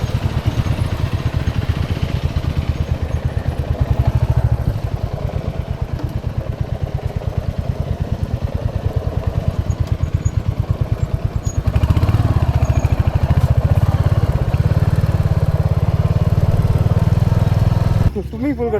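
A motorcycle heading downhill off-road on a North India ride rumbles loudly and steadily throughout, growing heavier partway through, while a rider talks over the engine.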